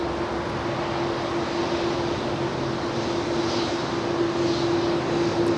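Steady vacuum-like roar from the GEnx jet engines of a Boeing 747-8 at LAX, a constant broadband hiss with a low tonal hum running through it, moderate in level and unchanging, without speech.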